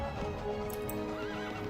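Horses in a strategy video game whinny and clip-clop faintly against a steady layered game soundscape, with no talk over them.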